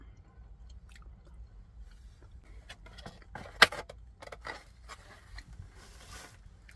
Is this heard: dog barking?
no